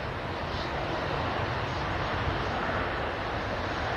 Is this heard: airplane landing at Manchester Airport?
yes